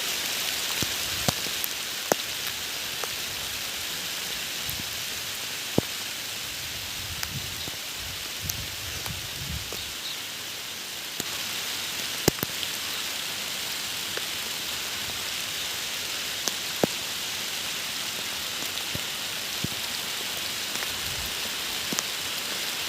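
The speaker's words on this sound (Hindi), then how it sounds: "अब जो है तालाब से भागने लायक बारिश होने लगी है" Steady rain pattering on a pond surface outdoors, a dense, even hiss with scattered sharper drops, continuous throughout with a brief low rumble near the start.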